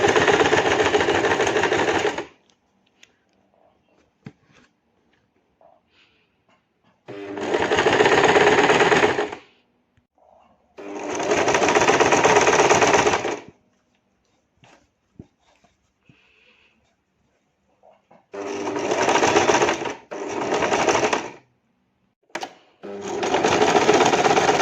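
Sewing machine stitching a taqiya skullcap, five loud close bursts of rapid mechanical whirring separated by quiet pauses with faint handling clicks.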